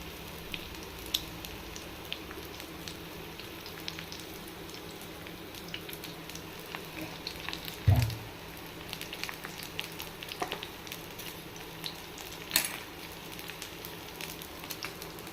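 Oil frying in a pan while fish cutlets brown, a steady soft crackling sizzle with scattered pops and a couple of louder clatters, no voices.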